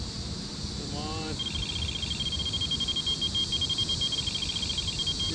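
A fishing bite alarm on a rod at a reservoir spillway beeps in a rapid, steady electronic pulse that starts partway through and keeps repeating, loud and close over outdoor background noise, after a brief rising tone.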